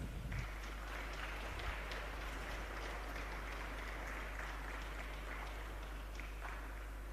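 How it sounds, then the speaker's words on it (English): An audience at a UN Replica 2023 event applauds, a dense wash of clapping that stays steady and fairly faint throughout, heard at a distance with no talk over it. "So I want you to give yourself a great round of applause."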